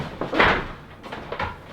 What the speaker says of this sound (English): You mind closing the door?